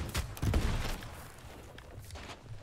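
Gunfire in a Sea of Thieves pirate battle against rival galleon crews, several loud bursts of shots in the first second, then a busier, quieter stretch of game noise with a further shot near the end.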